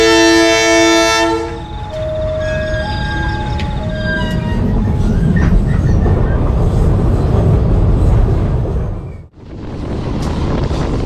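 A passenger train on the Bandung–Jakarta line pulls into Sasaksaan station in West Java, opening with sustained horn-like tones before a steady, loud rumble of rolling wagons and wind noise continues throughout, with no talk.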